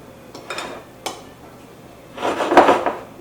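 Flour and salt being mixed in a bowl, with a few light scraping and clinking taps of a utensil against the bowl, then a longer burst of stirring and scraping, close and fairly quiet.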